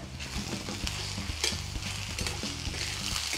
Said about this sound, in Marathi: आता त्याच्यामध्ये आपण थोडंसं आलं लसूणची पेस्ट टाकणार आहे. ही पण छान परतून घेणार.